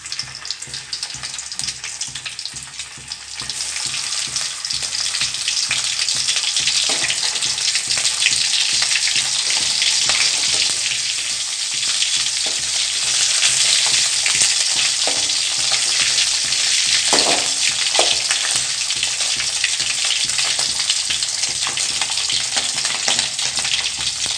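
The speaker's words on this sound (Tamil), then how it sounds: "இதை பொரித்து எடுத்துக்கலாம்" Pieces of dried ribbonfish (vaalai karuvaadu) frying in hot oil make a loud, dense, continuous crackling sizzle that holds steady and close throughout, with a couple of faint clinks partway through and no talking.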